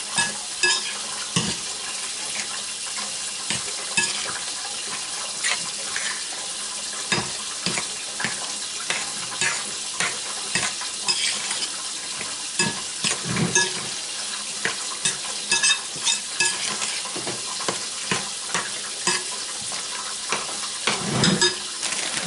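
A cheese mixture is stirred in a pan over heat, with a continuous soft sizzle broken by frequent scraping and knocking strokes of the spoon, close and without talk.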